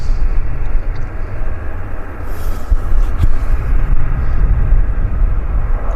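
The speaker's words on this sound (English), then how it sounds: "There goes our Embraer. On the roll." An Embraer jet accelerates on its takeoff roll at Vancouver airport, a steady loud broadband engine roar and rumble heard from a distance, holding constant throughout without talk.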